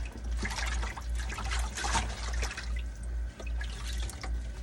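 Collard greens swished and agitated by hand in a sink of salted washing water, giving continuous close sloshing and splashing with small drips and trickles, no talking.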